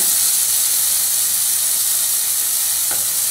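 Chopped tomatoes hit sautéed onions in a pan for tomato sambar, giving a loud, steady, close sizzle and hiss of frying with no voices.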